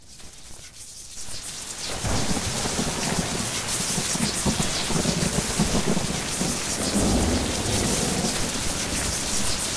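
A thunderstorm with heavy rain in the video game Mind: Path to Thalamus begins after a quiet second and swells into a dense, loud wash of rainfall with low rumbling thunder underneath.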